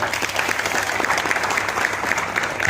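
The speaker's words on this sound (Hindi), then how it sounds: "मैं चाहता हूं कि जोरदार तालियां उन बच्चों के लिए हो जाए" Applause from an audience honouring a group of children at a public gathering, steady dense clapping throughout with a faint crowd murmur beneath.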